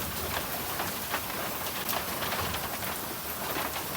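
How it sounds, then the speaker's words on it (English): Medium heavy rain showers fall steadily, a continuous soft hiss of drops on surfaces with scattered louder patters, heard from outdoors at moderate distance with no talking. "At 4:15 p.m. we just got medium heavy showers"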